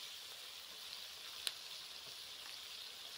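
Chopped tomatoes hitting a hot pan give a steady, close sizzle of frying, with a single sharp crackle about midway and no talking.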